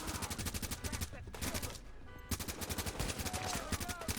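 Rapid automatic gunfire from The Division rattles in dense, continuous bursts, with a brief lull in the middle before the fast shots resume, loud and close.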